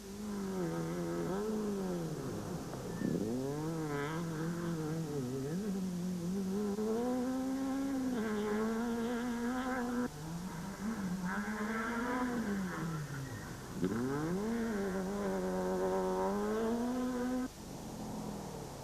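A Castrol Toyota rally car pushes hard through tight twists and turns at a 2007 Toyota dealer rally, its engine rising and falling in long revving sweeps as it brakes and accelerates. The sound is loud and continuous, with no talk over it.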